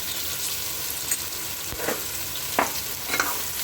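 Raw mango pieces sauté in hot oil with asafoetida and red chili powder, a steady soft sizzle broken by a few sharp spoon scrapes and clinks as the mixture is stirred.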